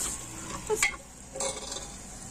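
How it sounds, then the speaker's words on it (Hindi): Spices fry quietly in a pan, a faint sizzle with a couple of soft stirring scrapes, heard close and alone. "मसाले हमारे अच्छे से भुन गए, देख लो"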